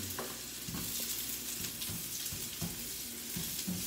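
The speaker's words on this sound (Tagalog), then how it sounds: "gigisahin natin yung sibuyas" Chopped onion sizzles and crackles in hot oil in a pan for shrimp and fish sinigang, a steady close fry with occasional stirring clinks and scrapes, no talk.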